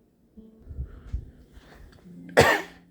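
A single sharp, loud cough bursts out near the end after some quiet low rumbling and faint handling noises, close to the microphone.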